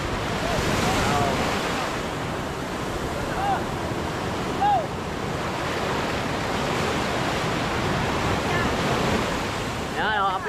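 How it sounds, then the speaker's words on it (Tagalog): Big ocean waves surge and crash in a continuous roar mixed with wind buffeting the microphone, loud and unbroken throughout with no clear voices. "Sobra lalaki ng alon."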